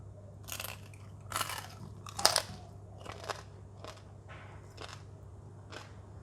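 Crispy air-fried roast pork belly dipped in spicy chili sauce being bitten and chewed close up, a run of sharp crackling crunches spaced irregularly, loudest in the middle, heard alone without talk.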